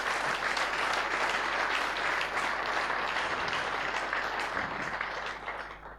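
Sustained audience applause at a sports gala in Venray, dense steady clapping from a large crowd lasting several seconds before tapering off at the end.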